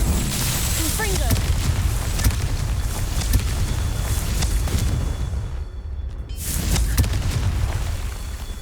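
Confringo blasting spell in Hogwarts Legacy, a video game: repeated booming explosions with rumbling, crackling bursts over a continuous loud battle din, briefly dropping before another blast.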